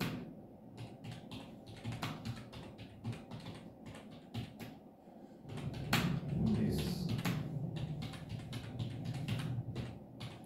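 HTML code is typed on a computer keyboard in a quick, uneven stream of close key clicks, with a brief pause and then a soft background hum joining in partway through.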